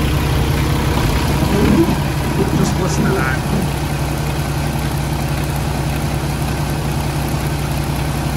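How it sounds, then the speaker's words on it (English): A 2016 Kenworth T680 truck's MX-13 485 hp diesel engine idles in a steady low rumble, with a brief spoken word near the start. "Now I'm going to take you outside, and I want you to listen to this engine."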